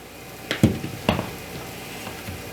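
Food starts cooking in a pan with a faint sizzle, and two or three soft clinks and stirring knocks rise briefly above the quiet frying hiss.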